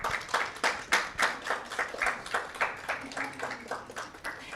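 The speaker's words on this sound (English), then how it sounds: "look at them and give them a round of applause" Guests at a Lambda Pi Eta induction ceremony give family and friends a round of applause, a modest group clapping in an uneven rhythm that gradually thins and softens.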